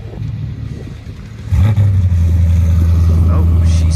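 A modified car with an LS V8 swap revs at a track day among Mustangs, Miatas, Corvettes and BMWs, a loud, steady low engine drone that kicks in about halfway and holds to the end.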